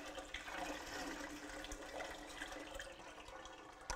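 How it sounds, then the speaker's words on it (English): Hot water poured from a small pot over a bag of grain to rinse out sugars while brewing beer, a steady, soft splashing trickle running throughout. "have another pot of water, a smaller one here, that you're gonna pour over. And you want to just basically rinse this like it's a tea bag"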